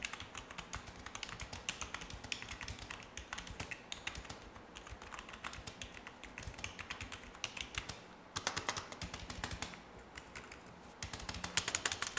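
Rapid, irregular clacking of keys on a 19-key anti-ghosting computer keyboard, typed in dense bursts with brief pauses, close and fairly quiet, no voices.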